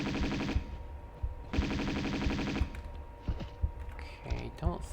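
Uzi gunfire in the video game Tomb Raider 2: two long, dense automatic bursts at close range, followed by scattered single shots and clatter.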